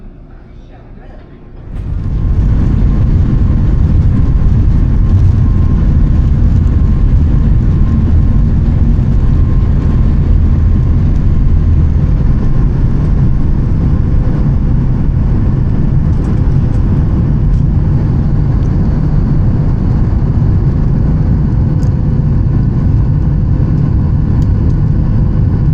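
Steady, loud engine drone of an airliner in flight, a broad low rumble that swells in after a quieter opening and then holds constant throughout, with no talking.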